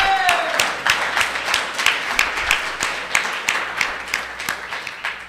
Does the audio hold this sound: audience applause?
yes